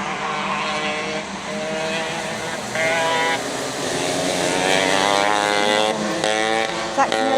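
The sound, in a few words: racing kart engine exhaust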